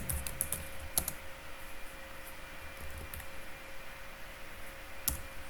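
Someone types code on a computer keyboard, giving soft, irregular key clicks with a few sharper taps over a faint steady hum.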